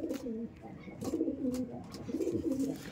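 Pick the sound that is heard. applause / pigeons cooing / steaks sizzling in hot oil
pigeons cooing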